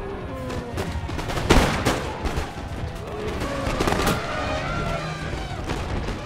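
Massed rifle volleys from Pennsylvania rifle infantry in Empire: Total War, a dense ongoing crackle of musket fire with sharper bursts around the middle and later, layered over continuous battle noise.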